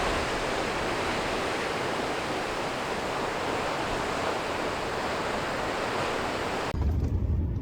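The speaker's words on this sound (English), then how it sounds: "It's quite windy here tonight." Strong wind blowing steadily at a night campsite in the Northern Cape, a broad, constant roar with no pauses that briefly shifts near the end.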